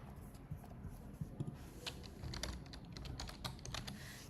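Someone types on a computer keyboard to open a terminal, giving a run of quick, light clicks that come close and clear over a low steady hum.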